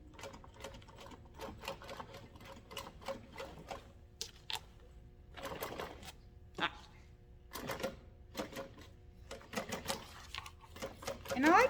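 Sewing machine backstitching a seam on a foam-lined tote bag, running in quick rattling bursts separated by brief pauses, close and fairly quiet, with a few clicks and handling noises between runs.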